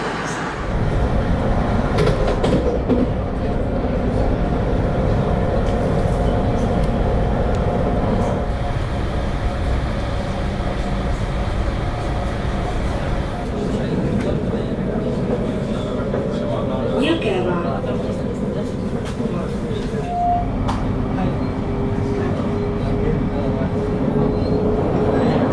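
A passenger train ride through Estonia toward Tartu, a steady loud rumble of the rolling train and rails lasting throughout, with occasional faint clicks and shifts in tone.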